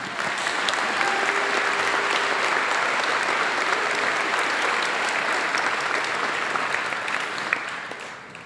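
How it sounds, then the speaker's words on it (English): Loud, continuous applause from a large audience at a high school commencement ceremony, a thick, even roar of clapping that holds steady for several seconds before easing slightly. "Yeah, clap it up."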